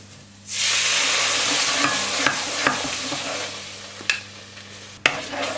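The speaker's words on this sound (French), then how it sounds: "Et là, on mélange bien jusqu'à ce que la pâte soit bien homogène" Curry paste and coconut milk are stirred together in a hot pan, a continuous close sizzle with scraping strokes of the spoon and a few sharper knocks against the pan.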